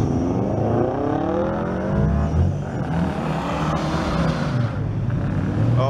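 Cars pull away from the Street Scene car show, engines rumbling and revving in a dense, continuous roar of several vehicles nearby, with pitch rising as they accelerate and pass.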